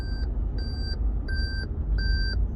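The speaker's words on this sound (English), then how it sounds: "It's an annoying beep." Inside a Lexus GS350 3.5 V6, a warning chime beeps four times in a steady rhythm, each tone lasting about a third of a second. The beeps sound clearly over the low rumble of the car on the road.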